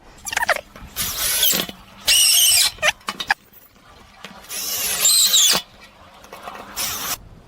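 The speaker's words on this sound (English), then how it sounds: "now we need to carefully screw these 2 pieces of wood together using a screwdriver" A power screwdriver drives self-cap screws into two pieces of wood, whining in several loud bursts of a second or so each, separated by brief pauses and small clicks, close up with no voices.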